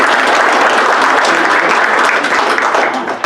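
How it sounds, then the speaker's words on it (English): A township board of supervisors meeting room fills with loud, close applause, a dense continuous patter of many hands that holds steady before thinning out at the very end. "I put on applause for Shaker."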